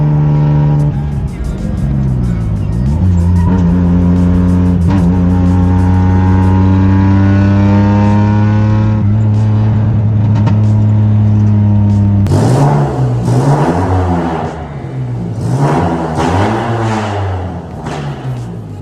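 Supercharged Geo Metro accelerating hard through the gears, its small engine climbing loud and close with clear pitch rises between shifts, then a sudden rough break into uneven bursts and voices near the end.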